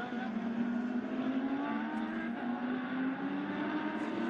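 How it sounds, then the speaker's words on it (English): Lamborghini Super Trofeo race cars roar past on a circuit in Shanghai, a steady loud engine drone with a rising pitch as the leading cars come through, continuous for several seconds. "Race leaders come through."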